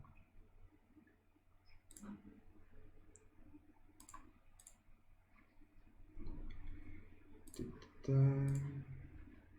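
Computer mouse clicks while working in AutoCAD, a sparse series of sharp, close clicks including a double-click, with quiet desk sounds and a brief low murmur between them.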